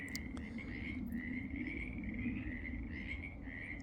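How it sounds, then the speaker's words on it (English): A chorus of frogs croaks near a golf course on a spring evening, a steady, continuous trilling that stays fairly distant and even, with no voices. "The frogs of the golf course."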